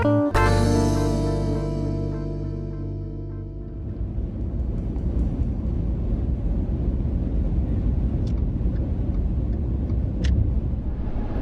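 A car cruises south on Interstate 15, giving a steady road rumble and wind roar inside the cabin after a brief musical intro fades out, with a couple of faint clicks.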